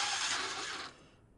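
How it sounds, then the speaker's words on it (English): A drill bores through the lid of a wooden chest, a reproduction of a 500-year-old design, with a backing piece beneath; a steady, loud grinding whir runs close up, then fades sharply as the bit breaks through. "now I'm going to drill the lid"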